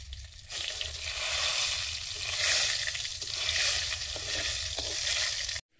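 Panch phoron spices and a dried red chili crackle and sizzle in hot oil, a steady dense frying hiss with light stirring scrapes that runs evenly throughout, then cuts off abruptly at the very end.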